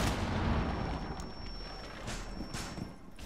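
An impact grenade going off in a video game: a loud, dense burst of blast and gunfire noise that rumbles on and slowly thins out, with no voices.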